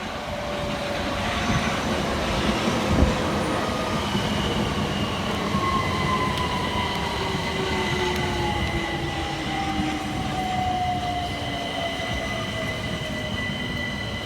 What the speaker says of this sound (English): Next to arrive under threatening skies is 376012 and 376011 with the 1548 Southeastern service from London Charing Cross through to Hayes.